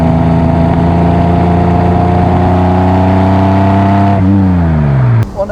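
A 1966 Ferrari 330 GTC with a 300 PS V12 engine drones loudly and steadily while driving, then its revs drop and the engine note sinks in pitch before cutting off abruptly.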